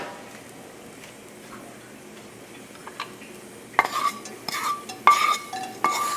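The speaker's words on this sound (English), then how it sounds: "I'm going to put this bacon in there." Bacon goes into a pan, first a quiet stretch, then clattering handling and scraping sounds with a soft sizzle building underneath, close by and with no talking.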